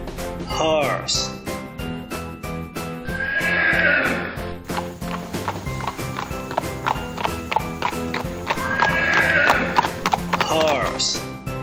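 Horse neighing and whinnying twice amid steady clip-clopping hooves, loud and close, with a rising whinny near the start and another near the end, set in a farm-animal sound sequence.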